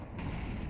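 A gunshot headshot in a Counter-Strike pro league match, a dense low booming burst of gunfire that fills the short moment with rumbling impact.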